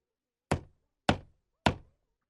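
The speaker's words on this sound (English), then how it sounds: "Little Red Riding Hood knocks on the door of Grandma's house." Three evenly spaced knocks on a wooden door of a grandmother's house, sharp and close, each with a short decaying thud, with no voices.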